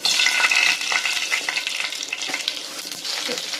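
Mustard seeds dropped into hot oil for a beetroot gravy give a loud, close, continuous crackling sizzle with sharp spattering pops that thins slightly toward the end.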